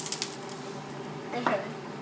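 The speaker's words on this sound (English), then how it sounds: "That's sizzling." Quiet, steady sizzling of food on a hot surface with a brief clink partway through.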